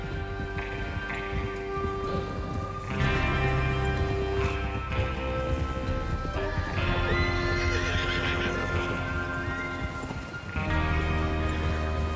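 Horses whinny and snort in the video game Red Dead Redemption 2 amid a dense, loud wash of music and hoofbeats, with several neighs rising and falling over twelve seconds.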